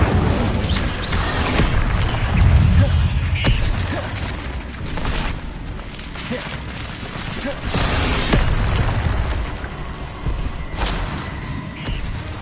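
Repeated Incendio fire spells are cast in Hogwarts Legacy, loud whooshing bursts and booming impacts arriving every second or two amid combat noise.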